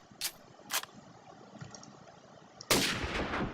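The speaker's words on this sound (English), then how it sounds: "The M40A3 takes single cartridges and has a max ammo of 5." Sniper rifle shots from an M40A3 in the Minecraft Flans Mod video game: two sharp, brief cracks close together early on, then a louder, longer burst of noisy, booming sound that runs to the end.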